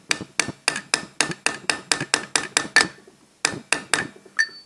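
A small ball peen hammer taps a deep socket seating a valve stem seal on a Honda J-series V6, about a dozen sharp metallic ticks in steady rhythm, a short pause, then a few more, close and alone.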